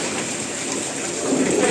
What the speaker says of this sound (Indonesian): Cuman hujan, air lagi meluap